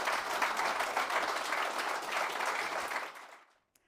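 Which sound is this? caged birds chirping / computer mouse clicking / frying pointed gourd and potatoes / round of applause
round of applause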